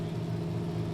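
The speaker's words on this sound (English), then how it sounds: "They're getting him revved up." A race car engine at I-37 Speedway runs loud and steady, its harmonics holding a sustained tone as it is revved up before a countdown, with no voices over it.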